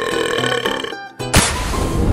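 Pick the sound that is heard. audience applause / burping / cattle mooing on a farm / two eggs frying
burping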